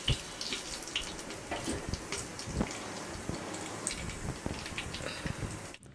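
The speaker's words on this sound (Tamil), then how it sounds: "சோம்பு, பட்டை, லவங்கம், ஏலக்காய் எல்லாம் பொரிஞ்சிருச்சு." Fennel, cinnamon, cloves and cardamom fry in hot oil with a soft, steady crackle of tiny pops and sizzles, faint and close.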